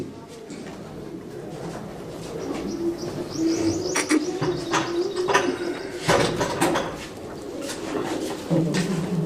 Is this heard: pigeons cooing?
yes